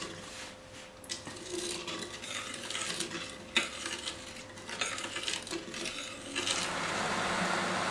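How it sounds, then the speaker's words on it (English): A spoon scrapes and clinks against the bottom of a pot of sugar syrup for baklava in irregular strokes, with a faint bubbling hiss building toward the end as the syrup nears a boil. "And I'm gonna stir it until all the sugar is melted."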